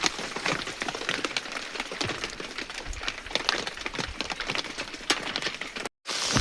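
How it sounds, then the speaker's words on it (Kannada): Rain falls on a farm field, a dense, even patter of drops striking surfaces close by, with scattered sharper taps over a steady hiss and a brief dropout near the end. "ಈ ಕಡೆ ಮಳೆ ಜೋರಾಗೂ ಬರಲಿಲ್ಲ, ಈ ಕಡೆ ನಿಂತೋಗಿಲ್ಲ."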